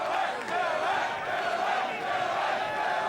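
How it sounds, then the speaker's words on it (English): A large crowd at the 2000 Australian motorcycle Grand Prix chants Doohan's name in a loud, massed, rhythmic roar that carries from a distance across the stands without a break. "The crowd shouting, Doohan, Doohan"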